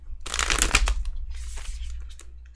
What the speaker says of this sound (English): I don't really know how to shuffle